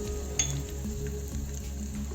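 Urad and chana dal with cumin and curry leaves frying in oil for a South Indian red chutney, a low steady sizzle with a few faint clinks from stirring, close and without voices.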